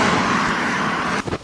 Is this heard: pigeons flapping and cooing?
no